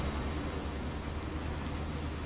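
Steady, even rain from the Farming Simulator 19 game world, falling while grass is windrowed on a farm, forming a constant broadband hiss with no talk over it.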